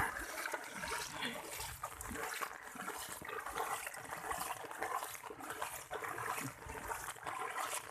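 Rainwater rushes across a road after heavy rainfall, a steady, broad wash of flowing water, fairly faint and continuous with no voices.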